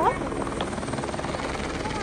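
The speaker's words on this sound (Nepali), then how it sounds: "हेलिकप्टर मान्छे लिन हेलिकप्टर यही छ त" Helicopter at a mountain village, its rotor and engine a steady, fairly close drone throughout, with people talking over it.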